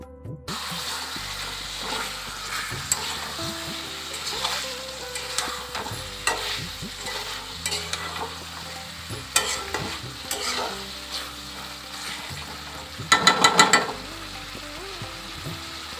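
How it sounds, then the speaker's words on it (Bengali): Meat sizzles steadily in a hot pan as it is fried down, a continuous close crackle with occasional stirring scrapes and a brief louder burst of spitting near the end. "এবারে আমি মাংসটা দিয়ে দিয়েছি, এটা একটু কষতে থাক, কষানো হয়ে যাক"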